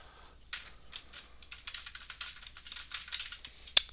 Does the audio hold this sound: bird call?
no